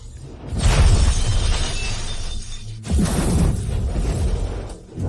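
A loud crash of something shattering bursts in, breaks off briefly near the middle, then resumes with a second wave of breaking debris before trailing away, with no voices over it.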